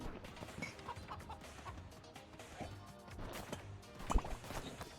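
A chicken clucking in the video game Moving Out: faint, intermittent clucks mixed with soft game sounds and a brief sharp knock.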